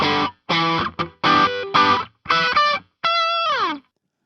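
Several bursts of electric guitar chords through a gritty overdriven amp inside a homemade isolation cabinet, separated by short gaps, ending with a sustained bent note.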